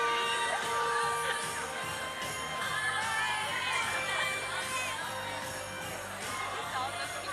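A packed Toronto Christmas Market on a Tuesday night, with a steady, dense crowd murmur of many voices and occasional raised shouts, continuous throughout.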